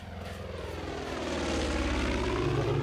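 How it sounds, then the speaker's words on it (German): A propeller airplane drones overhead in the video game Far Cry 5, a steady engine hum that swells gradually louder as it approaches, with no talk. "Ich höre ein Flugzeug, aber ich sehe keins."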